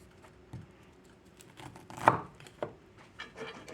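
A knife cuts kernels off frozen ears of corn, giving a few sparse, quiet scraping thuds and one sharper crunch in a quiet kitchen.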